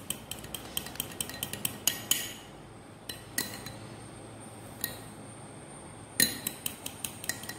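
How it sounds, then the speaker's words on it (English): A utensil clinks and scrapes repeatedly against a bowl while stirring a quarter cup of aloe vera gel into a paste for homemade sanitizer, with quick, irregular taps close by. "Take 1/4 cup of aloe vera gel. Stir it well. Make this a paste."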